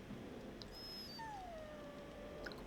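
A dog in the video game Dragon Age Origins gives a faint, high whimpering whine that falls in pitch, repeated once or twice over quiet background ambience.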